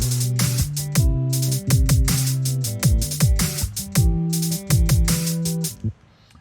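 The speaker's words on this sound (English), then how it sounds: "the verse drums sound like this" Verse drum loop from a beat programmed in FL Studio, with punchy booming kicks and crisp snare or hat hits in a repeating pattern, moderately loud and alone, cutting off near the end.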